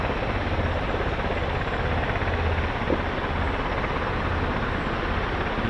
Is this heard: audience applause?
no